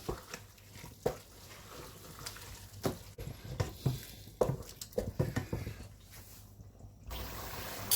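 Chopped tomato is stirred in a pot for chilli con carne, giving wet, irregular squelching and sloshing with soft knocks of the spoon, close and fairly quiet.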